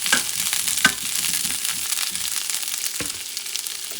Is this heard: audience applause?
no